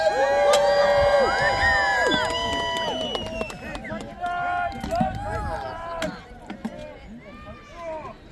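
A festival crowd cheers and shouts at a medieval shield wall battle outdoors, voices loud and overlapping at first, then thinning into scattered calls and claps, with someone talking over them.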